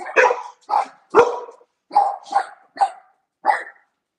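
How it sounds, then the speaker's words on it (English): Dogs barking close by, seven sharp separate barks in an irregular run, loud and clear against a quiet background. "What are y'all barking at?"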